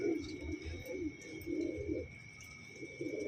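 Pigeons cooing in soft, low, repeated phrases close by, with a steady thin whine running underneath.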